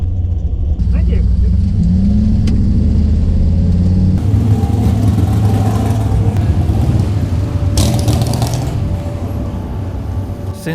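Drag racing cars at Bunker Hill Dragstrip roar past, making a loud, continuous, rumbling engine noise that swells and shifts as they accelerate.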